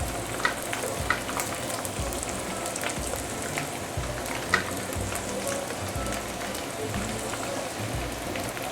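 Pork frying in hot oil in a wok for sweet and sour pork, a dense, steady sizzle with bubbling crackle and occasional louder pops, close up.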